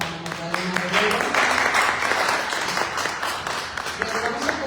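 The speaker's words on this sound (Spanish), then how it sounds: "un aplauso a Magdalena Guerrero" Audience at a literary panel discussion clapping for a speaker, a medium-sized round of applause that rises and holds for a few seconds, with voices talking over it at the start and end.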